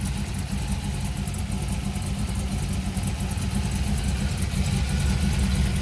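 A 1965 Shelby GT350 engine running at a steady, rumbling idle, close by and fairly loud throughout.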